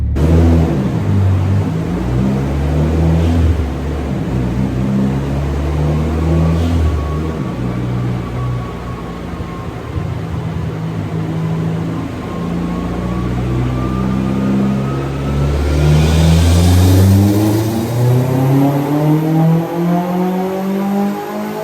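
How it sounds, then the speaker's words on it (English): Flex-fuel Mitsubishi Evo X on a dyno, its engine droning loud and steady through long pulls, pitch rising and falling with repeated revving and a whooshing surge near the end. "now we're doing more pulls on the dyno"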